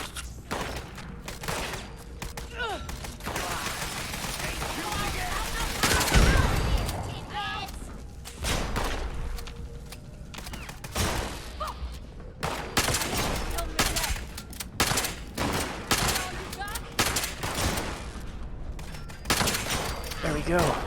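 Gunfire from enemies in the video game Fallout 76, repeated rapid cracking shots in bursts with one heavier bang, loud and sustained over a rumbling background.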